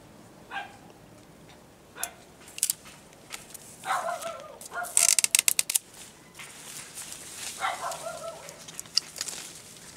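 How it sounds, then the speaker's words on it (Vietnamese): A dog barks in short, scattered yips and bursts, moderately far off, at an outdoor wild bee nest harvest, with rustling and handling noise in between. "tổ này có con chó nó lại nó sủa quá trời sủa"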